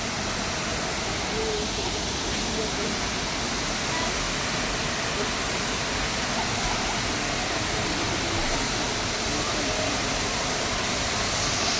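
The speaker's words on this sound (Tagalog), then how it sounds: "ang falls sa likod ko" Bolinao Falls in Pangasinan roars as a dense, constant rush of falling water, loud and unbroken throughout with no clear voices over it.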